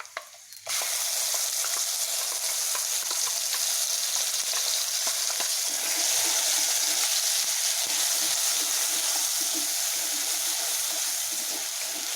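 A ground paste of tomato and shallots hits a hot pan and sizzles loudly, a sudden onset followed by a steady, dense frying hiss with faint stirring scrapes, close up and without talk.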